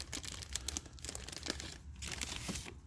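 A small plastic adapter is worked loose and pulled out of a Fiero GT clutch master cylinder, giving close, quiet crinkling and crackling scrapes in irregular bursts with no talking.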